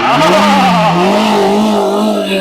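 The engine of a 2003 Hyundai Santro Xing hatchback runs loud and close with its bonnet open. It holds a steady idle with a gently wavering hum that swells slightly, as if lightly revved, with no voices over it.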